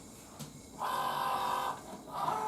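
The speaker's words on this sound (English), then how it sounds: "I chose go, so it should start to cut" A Cricut Joy Xtra cutting machine slicing heat transfer vinyl: a soft mechanical whir and motor buzz that rises for about a second, pauses, then starts again, quiet and close with no talk.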